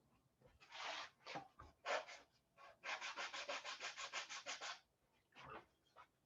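Sanding block rubbed along a square wooden edge to ease it, in short bursts, then a fast run of about a dozen rhythmic back-and-forth strokes, close and crisp.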